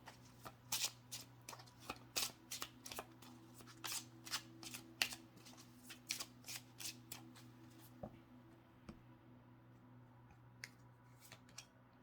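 Tarot cards being shuffled by hand during a spiritual reading, a run of crisp, close, quiet riffling slaps in an irregular rhythm that thins out toward the end, with no speech.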